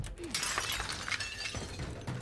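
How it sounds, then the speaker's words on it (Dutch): Glass window shattering in the Warzone video game, a sharp crash followed by tinkling fragments, fairly faint. "Maak jij het glas kapot, Enzo?"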